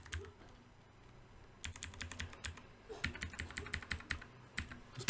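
Keys clatter on a computer keyboard as a router command is typed, with quick clustered bursts of clicks at a close, moderate level and no talk.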